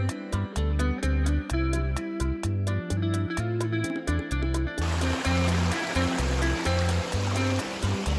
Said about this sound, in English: After that, it was finally time to hit the waterfalls.